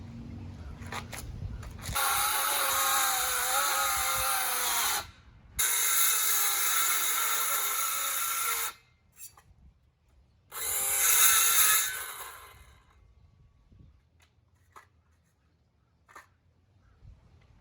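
A power saw makes dado cuts in wood for an aquarium stand, with three loud, sustained cutting bursts separated by short pauses and then near-quiet.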